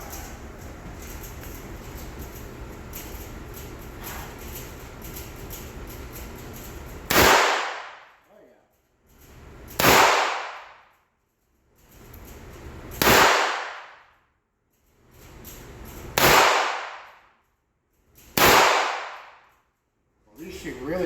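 A Taurus 605 revolver fires five sharp gunshots at a shooting range, each loud crack followed by a decaying tail, spaced a few seconds apart after a quieter stretch of ambient noise.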